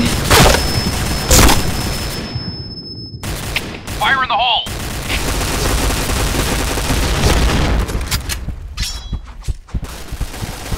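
Loud, booming blasts and bursts of gunfire in a multiplayer shooter game, with a grenade explosion among several heavy impacts and rattling shots spread across the scene.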